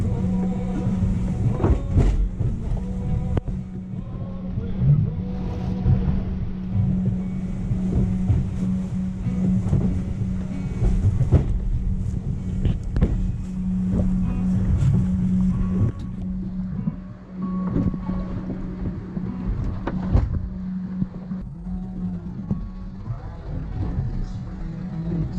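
Sailboat bouncing upwind off the south of Ireland as the wind picks up, with constant wind buffeting the microphone, water rushing and slapping against the hull, and repeated thumps as the bow pounds through waves.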